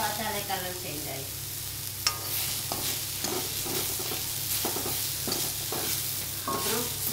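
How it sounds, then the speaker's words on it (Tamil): Apple sautés in a pan for a Srirangam apple thayir pachadi, giving a soft steady sizzle broken by repeated scraping stirs of a spoon, close up with no talking. "போட்டு நல்லா வதக்கணும்."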